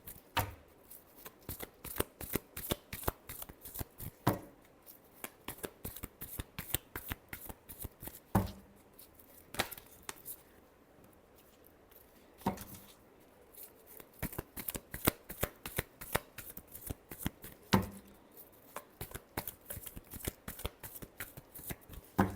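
Tarot cards shuffled by hand for a love reading, a rapid run of crisp riffling slaps and flutters with brief pauses between bursts, close and clear, no talking.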